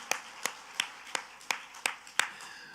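Rhythmic clapping from a church congregation at a worship service: about seven sharp, evenly spaced claps, moderately quiet, with no voices over them.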